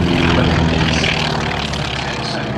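T-28 Trojan warbird propeller plane passing at an airshow, a loud, steady engine drone that eases slightly as it moves by, with faint crowd or commentary under it.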